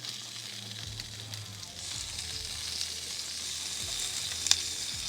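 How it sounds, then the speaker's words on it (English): Steady, close sizzling of meatballs searing on a hot grill, a continuous crackling hiss with a few sharper pops, no voices. "I know you hear that good sizzle going."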